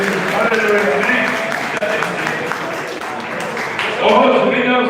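Church congregation clapping together at a regional worship service with communion, steady dense applause filling the hall with voices mixed in.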